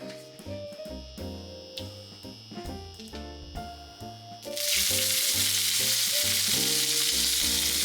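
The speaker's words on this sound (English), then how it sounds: "Heat this small amount of oil in a frying pan." A small amount of oil sizzling in a hot frying pan, a steady loud hiss that starts abruptly partway through, with soft background music beneath.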